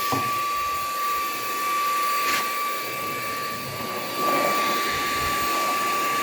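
A Dnipro-M VC-10BC cordless vacuum cleaner runs nearby with a steady, loud whirring hiss and a thin high whine, the tone shifting only slightly as it operates.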